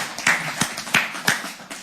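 A handful of people clap briefly for a named presenter at a trading seminar session, a sparse, uneven patter of close hand claps rather than a full roaring ovation, lasting under two seconds.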